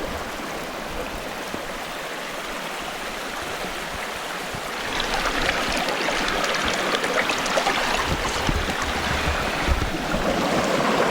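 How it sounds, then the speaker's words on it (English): The Allen River, a small clear river at the Ladies Well campground area in Chichester State Forest, rushes over a small waterfall in a steady, close, continuous babble that grows louder partway through. "Check out this bit of the waterfall here. Beautiful little section of river this."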